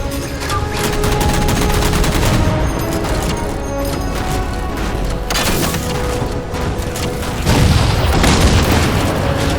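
Sustained gunfire in Halo 4 as jammers are shot down, loud continuous bursts of automatic fire with heavy booms and impacts layered throughout.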